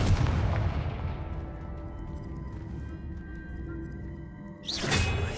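A Confringo explosion spell in Hogwarts Legacy bursts with a loud boom at the start, then decays into a fading rumble, followed by a second sharp whooshing blast near the end.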